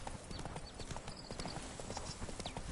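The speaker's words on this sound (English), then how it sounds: "Whoa there, Roach" Horse hooves clip-clop steadily in a video game, a rider's mount walking at an even gait on a hard surface, with dense regular footfalls throughout over a low ambient background.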